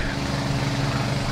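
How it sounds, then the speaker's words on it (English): Lawn mower cutting grass behind a bowls green, a steady droning engine hum at even loudness, moderately distant, with no talk over it. "And we've got somebody mowing the lawn behind me."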